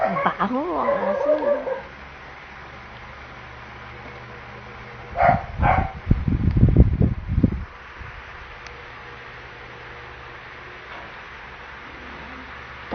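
A dog barks in a cluster of several loud, close barks in the middle, after a voice at the start, with quiet outdoor background between.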